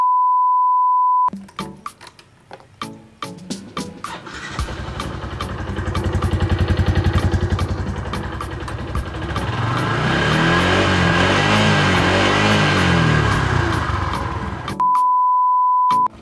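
A Yamaha Jupiter MX motorcycle engine sputters, then revs up and idles with a steady growl before shutting off, with a steady electronic beep before and after.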